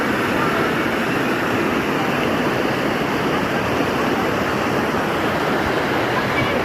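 Steady, full-bodied rush of a flowing river stream at a riverside spot, close and continuous with no break, no voices over it.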